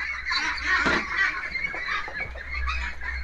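A flock of hungry meat ducks on a farm quacks and honks continuously, loud and close, a dense overlapping chorus of calls with no talking.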